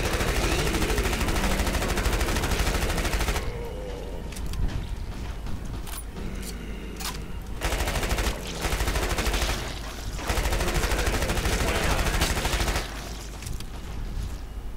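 Weapons fire nonstop in the video game Killing Floor, with rapid automatic bursts and shots that are loud and close. The firing comes in long dense stretches broken by brief gaps.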